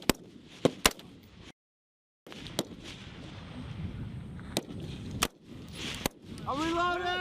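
Heavy weapons fire during a US Marines live-fire exercise: several sharp, irregularly spaced shots crack over a low background rumble. One brief dead-silent gap interrupts the firing, and a whining, whistling sweep rises near the end.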